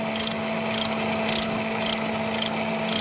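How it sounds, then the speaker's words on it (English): A ratchet with a 27mm socket loosens the oil filter housing on a Mercedes A180 CDI 2.0, giving six short, evenly spaced bursts of clicking over a steady background hum. "I'll put the 27mm on there, just loosening it, and then we can get the oil filter out."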